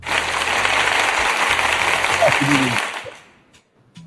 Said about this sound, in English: Let me give him some applause